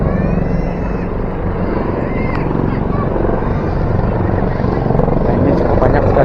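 A helicopter carrying the Indonesian president comes in to land on a football field in Kayu Tanam, Padang Pariaman, West Sumatra, its loud, steady rotor roar filling the air throughout.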